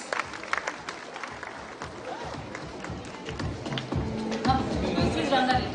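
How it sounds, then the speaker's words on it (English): A crowd at a school and police cyber-awareness grand finale claps and murmurs in a large venue, the applause building louder toward the end amid scattered voices and chatter. "A huge round of applause for Rangareddy District and Cyber Ambassadors."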